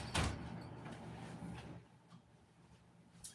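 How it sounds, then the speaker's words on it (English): A sliding door at home slides shut with one loud close near the start, followed by quieter rumbling and a small knock at the end. "I'm gonna have to close the sliding door and then close the bedroom door"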